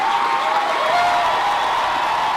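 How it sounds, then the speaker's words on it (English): A crowd at a college graduation keeps up steady, dense applause and cheering throughout, a continuous wash of clapping and voices with no pauses, fairly loud and even. "It was just this non-stop cheering."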